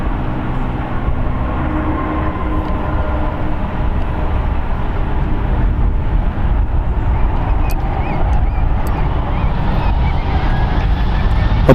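A Delta airliner taking off from runway 1 right at San Francisco International Airport, a loud, steady low engine roar with broadband rumble that holds strong and slowly swells across the whole stretch.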